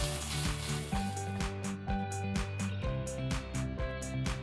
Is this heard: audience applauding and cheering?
no